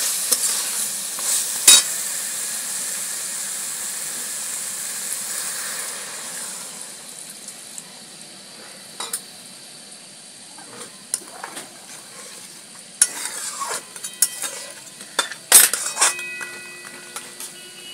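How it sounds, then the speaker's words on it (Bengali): Water hits a sizzling crab curry masala, and the hiss gradually fades as stirring follows, with sharp clinks of a utensil against the pan scattered throughout. "এইবারে আমি এর মধ্যে জল দেবো অল্প।"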